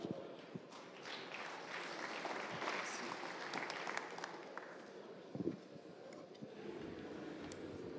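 Conference audience applause for a speaker from the Yverdon-les-Bains distribution network department, a faint, steady patter of clapping from a seated crowd heard at a distance, with a few sharper claps standing out.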